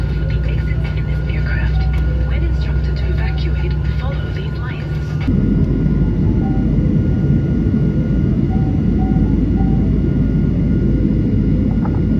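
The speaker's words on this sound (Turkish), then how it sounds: "kocaman bir uçaktayız. 7-8 saatlik bir uçuş." Steady broadband engine roar and air rush fill the cabin of a large airliner on a seven-to-eight-hour flight, loud and continuous throughout, with faint voices talking over it during the first few seconds.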